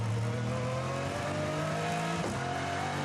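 Aston Martin and Porsche race cars scream around a circuit. A sustained, high-revving engine note climbs steadily, then breaks sharply at a gear change before rising again, loud and close, with no voices.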